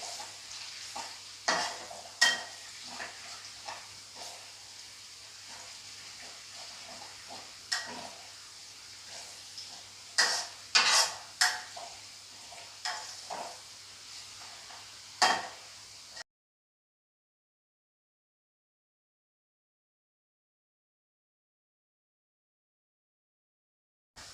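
Frog pieces fry with turmeric in a pan while a utensil stirs them, giving irregular scraping clicks over a soft sizzle for about sixteen seconds before everything falls silent.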